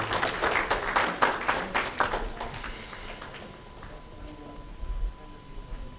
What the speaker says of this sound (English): Call Ali with a big round of applause